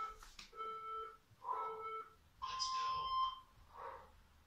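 Electronic workout interval timer during a HIIT cardio session, sounding a series of clear tonal beeps in separate bursts, moderately faint against room noise.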